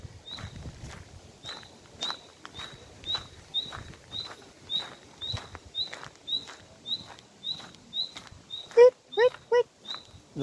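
A very small bird chirps loudly and repeatedly in a Berlin garden, a steady run of sharp high calls about every half second that breaks into faster trills near the end, over faint background rustling and footsteps.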